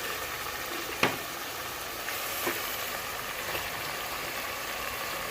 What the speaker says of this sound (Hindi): अब हम इसमें चिकन डाल रहे हैं।